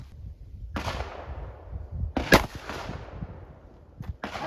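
Revolver firing 38 Special +P 125-grain hollow point rounds outdoors, two sharp loud shots about a second and a half apart, each with a long ringing decay, then a fainter knock near the end.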